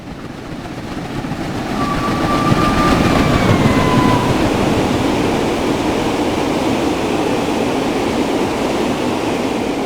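A simulated Flying Scotsman steam locomotive moves along the East Coast Main Line in Train Sim World 4. A loud, steady rumble and roar of the moving train builds over the first two seconds and then holds, with faint whistle-like tones passing through.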